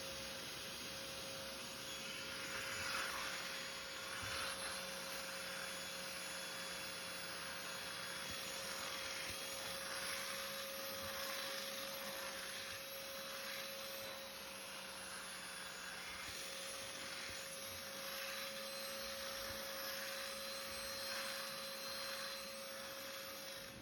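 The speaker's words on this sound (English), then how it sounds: "I'll get the steam cleaner out, or the carpet cleaner with the sofa cleaner attachment" A carpet cleaner with a sofa attachment drones steadily while cleaning the seats of a Peugeot 404, a constant close motor whine with a faint scrubbing texture, no talk.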